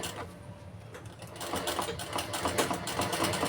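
A sewing machine stitching a shirt collar onto the garment body, a rapid mechanical whirr that starts quietly and then runs faster and louder, close by and alone.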